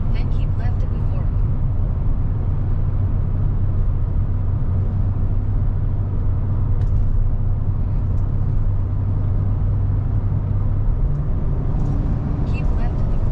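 Steady low road rumble inside a 2023 GMC Yukon cruising on an Alberta highway, a continuous drone of engine and tyre noise with a faint hum throughout and brief voices over it.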